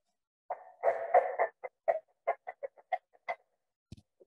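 A waxed string jerked through a cup to mimic a rooster crowing: a bursty, squawking cluck-and-crow sequence of rough, pitched rasps, a longer run then a string of short separate bursts, close and alone in silence.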